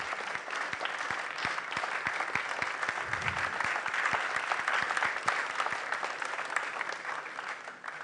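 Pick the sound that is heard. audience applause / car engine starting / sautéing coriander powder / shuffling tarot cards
audience applause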